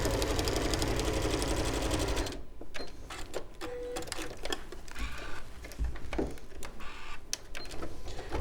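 A sewing machine stitches a wrap dress in a fast, close, steady whirring run for about two seconds, then stops, leaving soft handling clicks and rustles of fabric with faint movement noise.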